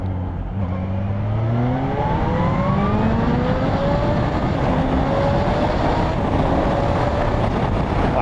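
A 2020 Kawasaki ZH2 motorcycle accelerates hard from about 3,500 RPM, its engine note climbing steadily in repeated rising sweeps under heavy, continuous wind rush at speed.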